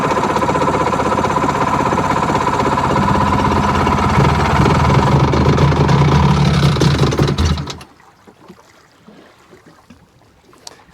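A Seadoo RFI 787 personal watercraft engine running on a garden hose, idling with a steady mid-pitched drone and hum for about eight seconds before shutting off, leaving only faint ambient noise.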